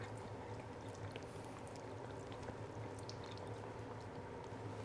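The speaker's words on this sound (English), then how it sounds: "I'm gonna add some rice wine." Rice wine is poured into a beef marinade as a soft, steady liquid trickle that runs unbroken and fairly quiet, close by and with no talking.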